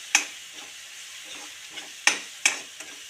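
Onion and red chili frying in mustard oil, with a few sharp stirring scrapes against the pan over a soft, steady sizzle, close by and with no voices.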